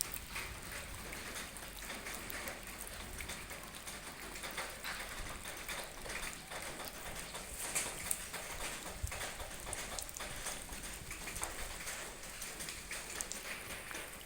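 Steady rain pours onto surfaces with gusty wind, a dense continuous patter of drops holding a fairly even level throughout, with no voices heard.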